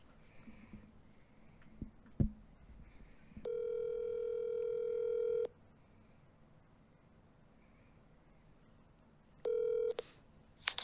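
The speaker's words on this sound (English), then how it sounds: "Calling Dr. Dad. Dr. Dad on the phone" A phone call placed on speakerphone gives a long steady ringback tone lasting about two seconds, then a quiet pause, then a second shorter ring, close and clear over faint room noise.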